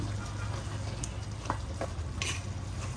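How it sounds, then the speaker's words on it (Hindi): Chopped vegetables including carrots sautéing in a pan for chicken spaghetti, a steady close sizzle and crackle with a few faint stirring scrapes and no talking. "अब ये सब डालने के बाद हम इसको थोड़ा सा भूनेंगे"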